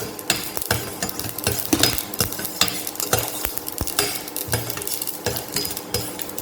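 Dry red chilli and urad dal frying in hot oil for a greens mandi, with steady sizzling broken by repeated stirring scrapes and clinks of a utensil against the pan, close and fairly loud.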